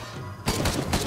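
Enemies shooting in Risk of Rain 2: after a brief lull, a sudden loud barrage of rapid gunfire bursts erupts close by and continues to the end.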